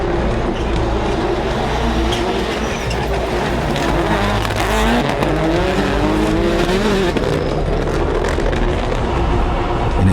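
Rallycross race cars launching together at a race start, a loud continuous roar of engines revving hard with rising gear tones and tire noise, close and dense throughout.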